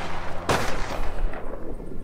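Gunfire in Mafia: The Old Country: a sharp close gunshot bursts out, then a dense rumbling wash of further shooting and echoing reports, loud and continuous.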